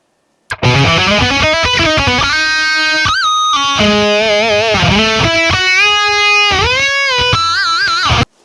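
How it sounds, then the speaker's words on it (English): Sustained electric guitar solo played through a distorted amp-modelled tone with reverb and delay, notes bending and sliding with a wide, lush tail, loud and continuous with no talk. "I'm just going to be using the rhythm tone again and adding some reverb and delay and other effects to make it wide"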